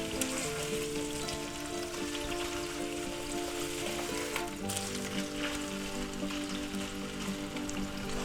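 Thin pork slices sizzle steadily in a hot pan for a pork sub sandwich, a dense continuous frying hiss with a faint clatter partway through as the pieces are flipped.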